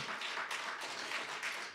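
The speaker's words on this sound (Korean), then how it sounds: "뜨거운 박수 부탁드립니다" Audience applause at a Tongil News 20th anniversary ceremony in 2020, a steady continuous clapping from a crowd filling the room, moderately loud and without voices.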